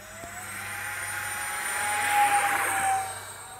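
Electric motor of an RC Boeing 737 Max 9 model airliner in flight, a steady whine that swells louder as the plane passes close, then eases off as the throttle is pulled back.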